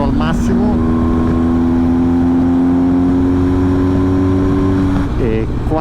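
An Acra van's engine at full throttle, a sustained loud mechanical drone from inside the cabin with steady engine tones that shift near the end amid road and wind roar.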